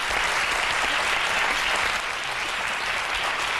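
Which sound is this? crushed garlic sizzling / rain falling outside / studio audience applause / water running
studio audience applause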